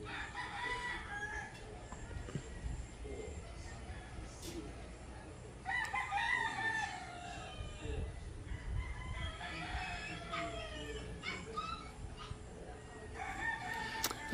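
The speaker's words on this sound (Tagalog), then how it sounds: "pagkinggan mo lang mga huni ng mga manok. Kagaya niyan." Roosters and chickens in a countryside yard in the Philippine province: several crows from more than one bird come in turn over scattered clucking, fairly distant and soft, with no voices.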